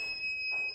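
An electronic interval timer buzzer sounds at the end of a weight-training strength set, a steady high-pitched electronic tone held for under a second.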